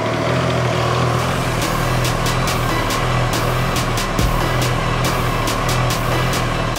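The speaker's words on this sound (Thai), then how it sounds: "ขั้นตอนแรกนะครับเราก็ต้องทำการสตาร์ทรถนะครับทิ้งไว้5นาทีครับ" Triumph Tiger Sport 660 motorcycle engine ticking over at a steady idle, a continuous loud low rumble with faint rapid clicks and no talking.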